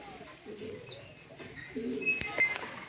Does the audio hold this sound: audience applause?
no